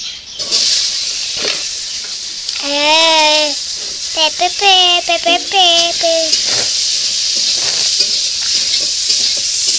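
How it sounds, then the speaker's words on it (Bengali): Pumpkin slices sizzle steadily in a hot pan in a village kitchen, a constant hiss running beneath a voice and other talk. "এবার কুমড়ো ভাজবে"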